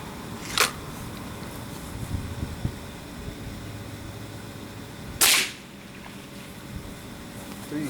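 An air gun fires plastic pellets, two sharp, close snaps several seconds apart over a steady hiss of background noise.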